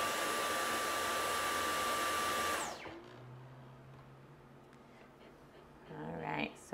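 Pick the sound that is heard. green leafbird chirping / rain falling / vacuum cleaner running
vacuum cleaner running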